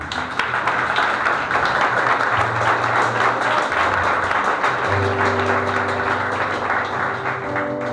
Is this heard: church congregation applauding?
yes